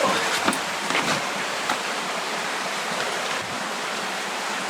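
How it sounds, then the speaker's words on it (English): A creek inside Deadhorse Cave flows as a steady, close, broadband rush of water, continuous and without voices. "Notice how the creek kind of spreads out pretty wide"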